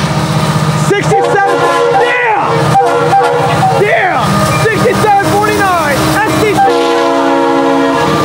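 A Norfolk Southern freight hopper train rolls past close by, its horn sounding in several long blasts over steady rumbling and clanking of the cars, with people talking throughout.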